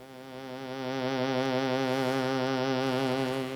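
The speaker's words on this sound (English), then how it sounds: "Instead, we get a buzzy sound." A synthesized harmonic tone turns buzzy and rough once upper harmonics are added, a steady, sustained drone that swells in over the first second and then holds alone.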